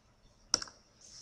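A computer mouse gives a single sharp click followed by a softer second tick, close and clear against a quiet room; no voices.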